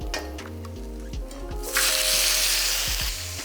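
Prawns hit hot oil in a pan for Pad Thai, bursting into a loud, bright sizzle partway through that continues hissing steadily after some earlier clinks and stirring.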